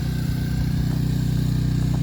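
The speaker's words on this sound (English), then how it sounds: "got my little generator going, keep the water going" A small portable generator running steadily in a snowy winter setting, a constant droning engine hum with a regular low pulse, close and continuous, with no talking.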